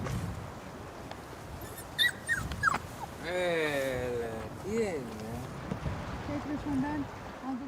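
Several helpless puppies whimpering and yipping in high, wavering cries around the middle, close by, with other voices and handling noise around them.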